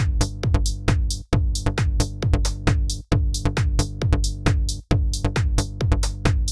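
A synthesized bassline plays repeating dotted eighth notes in a steady, syncopated loop, loud and punchy with sharp plucky attacks and no other sounds.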